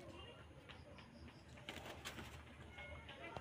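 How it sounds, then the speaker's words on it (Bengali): Pigeons coo softly from a loft, low repeated calls over faint background noise, with some brief rustling mixed in. "পায়রা দেখাচ্ছে, দেখুন, দেখো পাখি।"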